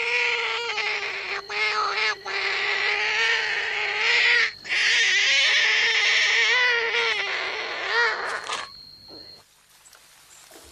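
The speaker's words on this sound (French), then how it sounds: "La grenouille taureau, par exemple." Bullfrog calling, a loud, sustained low droning croak that repeats in long bursts with short breaks, close and dominant throughout before trailing off near the end.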